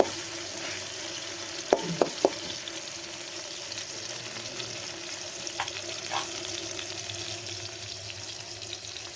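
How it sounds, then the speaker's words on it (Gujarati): Tomatoes sizzle and crackle steadily in hot oil in a village kitchen, with a few sharp clinks of a utensil against the pan near the start. "આપણે નાખી દીધું તેલ અને ટમેટા તેલમાં કકડાઈ નાખવાના"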